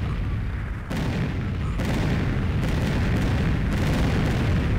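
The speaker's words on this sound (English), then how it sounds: "Those are explosions." Video game explosions, a continuous loud rumbling barrage with sharper booming bursts landing about once a second, with no talking over them.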